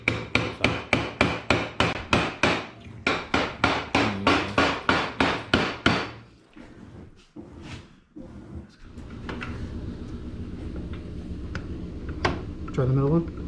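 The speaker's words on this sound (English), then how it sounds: "Here's my hammer." A hammer strikes rapidly and repeatedly, in about twenty sharp, close metallic blows, while a transmission housing is being assembled. A few slower knocks follow, then someone talks over shop background noise.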